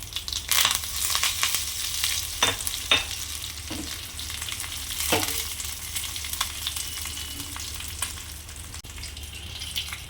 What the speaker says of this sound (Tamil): ஜீரகம், ஒரு காஞ்ச மிளகு உடச்சிக்கிட்டு தாளிச்சிக்கலாம்.